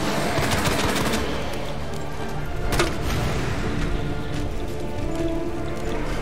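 A grenade launcher fires in Resident Evil 2 Remake amid loud, continuous gunfire and sharp impacts, with one bright burst near the middle and no talking.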